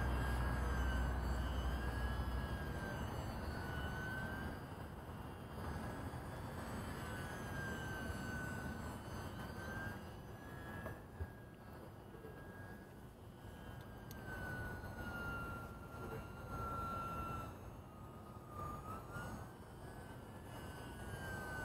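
A Horizon Hobby Cirrus SR22T UMX small RC airplane flies with a thin, steady electric motor whine that rises and falls in pitch as it maneuvers, faint and distant over a continuous outdoor rumble.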